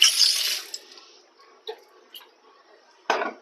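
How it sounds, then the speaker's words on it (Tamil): Fresh fish being rinsed under a running kitchen tap, a short burst of splashing water at the start, then sparse drips and light handling sounds, with one more brief splash near the end. "ஃபஸ்ட்டு மீன் வாங்கிட்டு வந்துட்டு டேப் வாட்டரில் தண்ணியில் வச்சு அலசிக்கலாம்."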